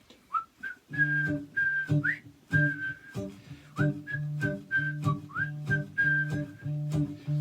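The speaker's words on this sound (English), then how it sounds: "So, whistling parts." A person whistles a bouncy Mardi Gras melody in short phrases over a steady rhythmic backing of low repeated notes from a three-string cigar box guitar, clear and close.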